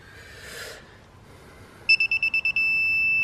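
A device beeps six quick times and then holds one sustained tone, loud and close after a quiet stretch with a brief rustle.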